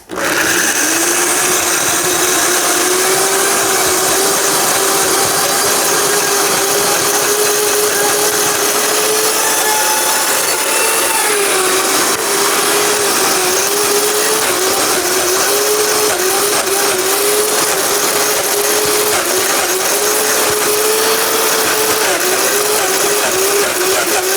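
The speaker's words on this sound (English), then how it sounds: "Put it on the Vitamix, and here we go" A Vitamix blender whirs loudly and steadily at high speed while blending homemade vegan cream cheese, a constant close motor roar with slight pitch wavers as the thick mixture churns, with no talking.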